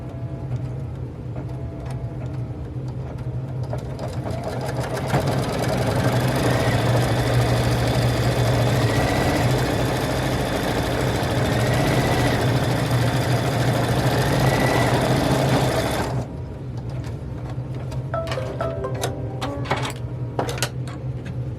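An embroidery machine stitches the placement outline for an appliqué face on a children's T-shirt, giving a loud, steady mechanical whir with a rapid needle rhythm that runs for about fifteen seconds and then cuts off to a quieter hum.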